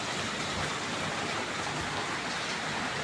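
Steady, dense rain pouring down, a continuous hiss of drops hitting surfaces with no pauses.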